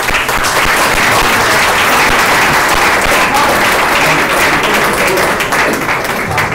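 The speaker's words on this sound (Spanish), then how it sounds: "No aplaudáis las intervenciones para ganar tiempo." Loud, dense audience applause fills the room at an urbanism debate, sustained steadily for several seconds without a break.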